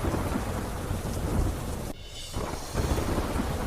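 Heavy rain lashes down with strong gusting wind during a cyclone in Abdasa, Kutch, Gujarat, a dense steady roar that briefly drops out near the middle before resuming at full strength.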